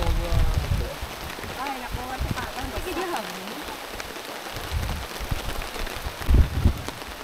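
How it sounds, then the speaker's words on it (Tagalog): Rain falls steadily at a mountain campsite in the Sierra Madre, making a constant close hiss of drops on surfaces, with muffled voices talking faintly underneath. "Naulan na tanan-tanan. Naulan na sa camp."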